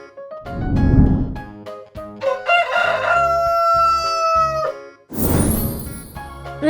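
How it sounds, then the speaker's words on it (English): Rooster crowing on a farm, a drawn-out cock-a-doodle-doo rising over a light musical backing, loud and close, followed by a brief noisy burst. "Rooster."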